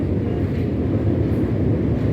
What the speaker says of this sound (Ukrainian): Таке у нас метро.